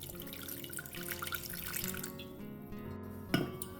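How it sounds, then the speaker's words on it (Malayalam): Water is poured into a spoonful of cornflour for a homemade natural hair dye, a steady close trickle splashing for about three seconds before a brief knock at the end. "കുറച്ച് വെള്ളം ആഡ് ചെയ്യാം."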